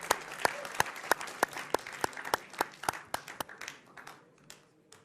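A studio audience on a televised Hindi debate show claps to welcome two guests, a smattering of sharp, distinct hand claps that starts steadily, then thins and fades out.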